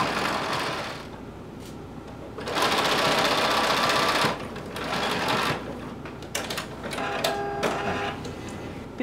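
A sewing machine stitches a side seam on a DIY top in bursts, its rapid mechanical whirring starting, pausing and resuming, close and clear.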